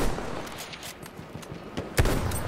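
Gunfire in the video game Battlefield 1, with several sharp shots crackling over a busy battle backdrop and one heavier, louder report near the end standing out as a sniper rifle blast.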